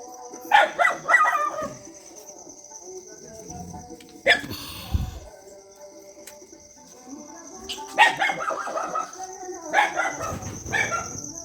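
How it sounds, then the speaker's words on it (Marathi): Village dogs bark in several bursts during Diwali night, some close and some farther off, with a steady high electronic whine running underneath throughout. "इकडे बघा कुत्रे उठलेत"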